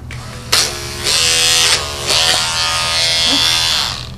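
Electric dog grooming clippers fitted with a 7 finishing blade buzz loudly and steadily while grooming a Wire Fox Terrier. The motor hum shifts in pitch and intensity as the blade moves through the coat, with no voices over it.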